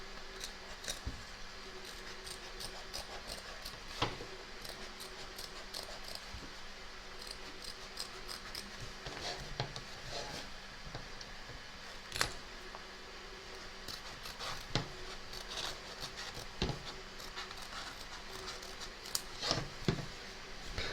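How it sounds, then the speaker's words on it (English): Scissors trim fabric around an in-the-hoop embroidery stitch line, a quiet series of close, crisp snips at an irregular pace over low background hum. "turn your hoop over and trim around the stitch line, taking care not to cut your stitches"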